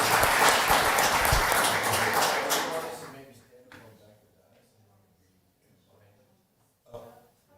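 Audience clapping at a city council meeting rises at first, then fades out within a few seconds, followed by quiet room shuffling and brief speech.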